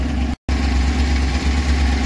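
A motorcycle engine idling steadily, a close low rumble that cuts out for an instant before resuming; the motorcycle will not accelerate.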